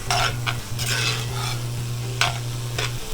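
Vegetables sweating down in a pot for brisket chili, with a steady low sizzle throughout and several brief scraping stirs breaking in near and clear.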